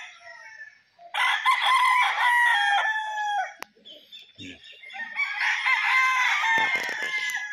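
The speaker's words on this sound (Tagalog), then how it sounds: "Ang ganda ng mga manok mga boss." Gamefowl roosters crowing on a gamefarm at Mount Banahaw, Dolores, Quezon, two loud drawn-out crows close by with a few soft clucks and a brief knock between them.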